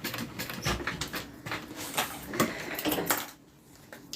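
A sewing machine stitching a custom order, running in a steady rapid patter of needle strokes with slight speed changes, close up, then slowing and dropping away near the end.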